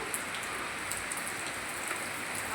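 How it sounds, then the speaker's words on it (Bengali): Steady rain falls on a surface, a dense even hiss of drops heard close and continuous, with no voices. "বৃষ্টিতে ভিজতে চলে এলাম একটু"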